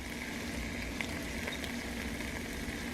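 Shrimp and garlic sizzle steadily in a pan on a low stove, with faint scraping taps of stirring, a continuous close frying hiss with no talking.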